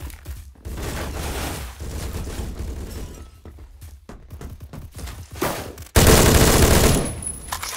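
Rapid gunfire from a gun in the first-person shooter Phantom Forces, loud and sustained bursts with short gaps, ending in a heavy, dense volley of shots.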